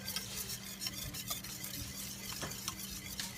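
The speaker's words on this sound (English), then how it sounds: "If you don't want lumpy gravy, don't quit stirring" Thick Appalachian gravy in a pan is stirred continuously, a soft, busy scraping and light clinking over a quiet bubbling background, fairly faint and close.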